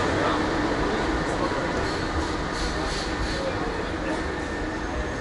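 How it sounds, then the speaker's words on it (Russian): An Istanbul tram passes by a hotel, a loud continuous rumble and rolling clatter that stays close and steady for several seconds without talk. "А трамвай ходит каждые 2 минуты."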